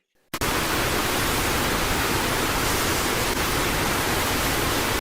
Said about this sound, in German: dass die Vögel auf weißes Rauschen stehen